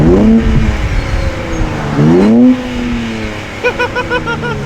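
A Nissan 400Z fitted with a new aftermarket exhaust revs loudly nearby, two strong rising sweeps of engine note that drop back, followed by a burbling, popping idle.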